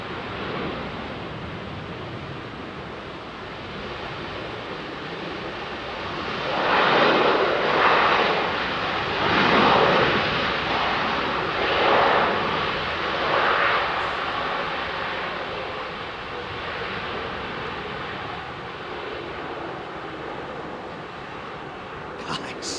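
A Titan Airways airliner takes off at London Heathrow Airport, a broad steady roar that swells in the middle and holds at a distance under faint ambient noise.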